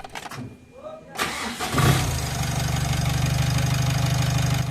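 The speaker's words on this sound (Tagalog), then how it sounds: "pwede ko na ngayon pa-start itong makina" A brief voice, then a Mitsubishi L300 Euro4 van's diesel engine cranks and catches, settling into a steady low idle with a rough rumble close by.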